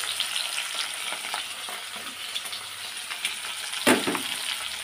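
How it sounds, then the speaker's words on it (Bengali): Fish pieces fry in hot oil with a steady close sizzle and crackle, broken by occasional louder pops and a stirring clatter near the end. "সবগুলো এবার ভেজে নেব।"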